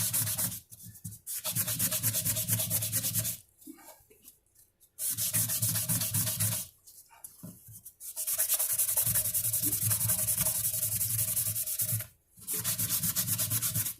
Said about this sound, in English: This is 120 grit sanding pad.